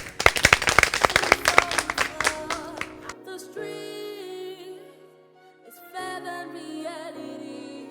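A group claps and applauds at a street aerobics gathering, with dense, rapid hand claps for about three seconds before the clapping stops and music takes over.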